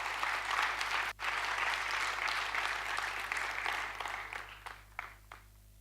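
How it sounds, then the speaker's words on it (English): Audience applause at a design conference, a dense, steady wash of many hands clapping that holds for several seconds, then thins and tapers off into a few scattered claps at the end. "let's give them a huge round of applause"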